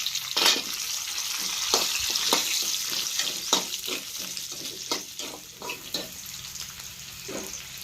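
Thickly cut onions fry in a pan for biryani, a continuous close sizzle broken by repeated sharp clacks of a spoon stirring against the metal, with no talking.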